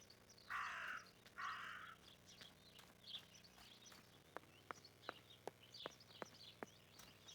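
Two loud, harsh caws from a raven or crow ring out close by in the video game Martha is Dead. A run of sharp clicking taps follows under faint ambience.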